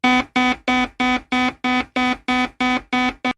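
A harsh electronic buzzer alarm blares in eleven evenly spaced, loud bursts, each a short, abrasive honk repeating in quick rhythm.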